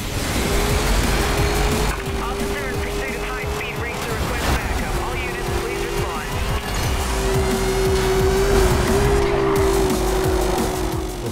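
Race car in the NFS Rivals video game roaring under turbo boost, with a sustained engine drone and tire skid squeals over a busy game soundscape, while someone talks throughout.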